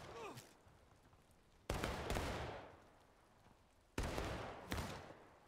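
Musket volleys in the Civil War battle game War of Rights crack out as two loud ragged fusillades, each a dense burst of many shots that rolls and fades, over a low distant battlefield rumble.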